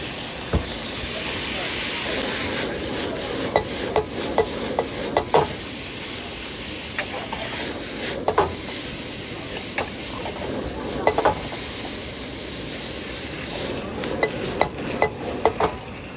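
Noodles being stir-fried in a pan, with clicking utensil strikes against the metal over a steady sizzle throughout, along with faint background voices.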